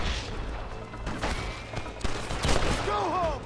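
Gunfire erupts in the Red Dead Redemption video game, several loud, sharp shots cracking out in quick succession over a busy game soundscape with brief whistling tones.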